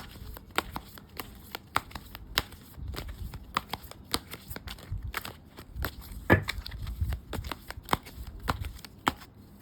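Tarot cards handled from a deck at close range: quiet sharp snaps and soft shuffling flicks come in an irregular rhythm throughout, with no talk.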